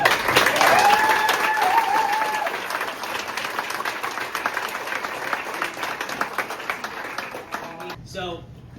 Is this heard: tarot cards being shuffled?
no